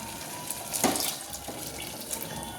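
Water pours steadily into a pot of chickpea and pea curry, a close, continuous splashing with a brief louder gush near the start.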